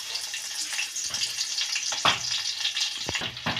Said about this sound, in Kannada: ಇವಾಗ ಎಣ್ಣೆ ಕಾಯಿತು. ನೆಕ್ಸ್ಟ್ ಇದಕ್ಕೆ ಬೆಳ್ಳುಳ್ಳಿ ಹಾಕಾಕತ್ತೀನಿ ನೋಡ್ರಿ.